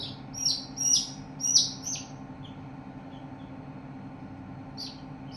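Young chicks about a week old on a farm chirping, with several high, thin peeps close together at first, then fading, over a low steady hum of background noise.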